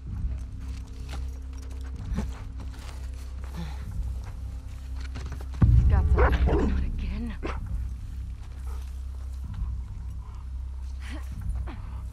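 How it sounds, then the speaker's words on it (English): A dog barks in The Last of Us Part II gameplay, set among loud game sounds and a steady low drone. A short burst stands out midway, with talk over the scene. "There's a dog too. I need to take care of the dog."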